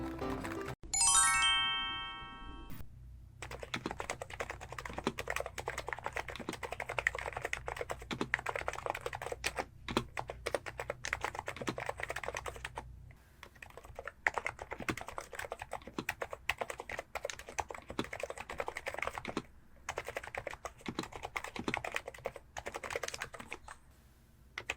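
Rapid typing on a Hansung GK893B Sports keyboard, a tight, non-hollow-sounding electro-capacitive board: dense, close clacks stream steadily for about twenty seconds with brief pauses, after a short bright chime near the start.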